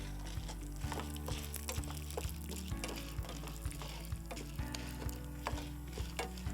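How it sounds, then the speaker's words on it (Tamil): Red chilli sizzles and fries in hot oil in a pan while cooking a Chettinad-style masala carrot and cabbage poriyal, a steady crackle with quieter stirring scrapes and clinks. "இப்போ நான் வந்து ரெட் சில்லி ஆட் பண்ண போகிறேன்."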